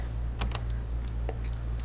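Short burst of computer keyboard typing, a few quick clustered keystrokes near the start and a couple more later, close and fairly quiet over a steady low hum, no voices.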